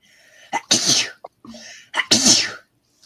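Two sharp, close sneezes in quick succession, each with a short gasping intake followed by a loud explosive burst, indoors with brief silence between them.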